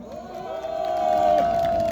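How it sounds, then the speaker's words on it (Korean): A large crowd at an outdoor rally cheers, applauds and shouts together in a sustained roar that swells louder over a couple of seconds. "힘내라고 박수 한번 보내주십시오"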